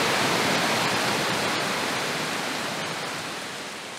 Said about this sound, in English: now the rain's picking up again